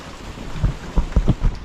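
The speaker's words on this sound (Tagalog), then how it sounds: "malakas na naman yung ulan natin sa ngayon" Heavy rain falls outdoors on a farm where papaya seedlings are being planted, heard as a close, rumbling wash broken by several dull, low thuds in quick succession.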